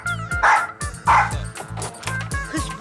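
A dog barks several times in quick succession, loud and close, the sharp yapping bursts mixed with brief whimpering sounds and some overlapping voices.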